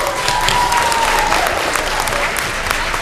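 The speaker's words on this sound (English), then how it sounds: "let's first have a round of applause for our presentation." Sustained applause from an audience, steady dense clapping filling the whole stretch, with a faint crowd murmur underneath.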